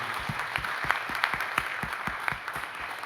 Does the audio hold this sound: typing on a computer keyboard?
no